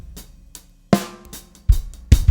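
Multitracked drums through a mix bus with tape saturation: sparse hits and cymbal washes, then heavier, punchier kick and snare strikes toward the end, loud and without talk.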